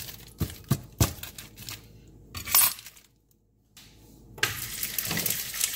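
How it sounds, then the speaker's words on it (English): Breakfast being cooked in a home kitchen: scattered clinks and clatters of pots, pans and cutlery come in sharp separate bursts, then a short pause and a longer stretch of sizzling or scraping noise, all close by with no talk. "sorry you guys, I'm cooking breakfast"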